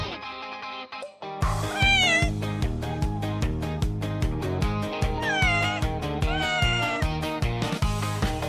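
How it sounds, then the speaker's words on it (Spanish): Kittens meow repeatedly in rising, wavering cries over a steady beat of rhythmic background music. The meows are clear and fairly close. "Nunca nos cansaremos de mirar a los gatitos."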